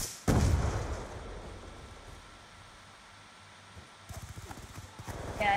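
A grenade explodes in a video game, one loud blast with a long decaying rumble near the start, followed by quieter distant popping shots toward the end.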